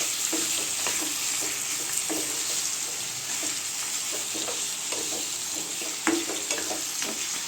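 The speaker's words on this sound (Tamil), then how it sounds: "மஞ்சப்பொடி குழம்பு சேர்த்துக்கோங்க கல்லூப்பு குழம்பு சேர்த்துக்கோங்க நல்லா கிண்டி விட்டுருங்க" Chicken for pepper chicken is stirred in a pan with turmeric and salt, giving a continuous close sizzle broken by repeated spatula scrapes and knocks against the pan, with no voices.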